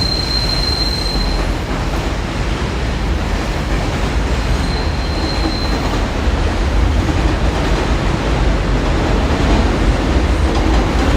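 A loud, steady rumble of a subway train rolling past at night in Brooklyn, with a constant roar and faint high squeals from the wheels.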